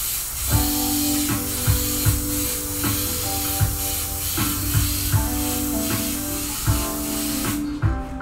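An airbrush sprays paint onto a shirt with a steady, close hiss, broken by repeated short bursts and pulses as the trigger is worked, and the hiss cuts off near the end.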